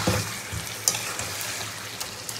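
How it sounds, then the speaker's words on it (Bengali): Meat being sautéed in oil in a wok, a steady close sizzle and crackle with a few brief scraping stir knocks, no voices. "আগে কড়াইতে ভালো করে কষিয়ে নিই"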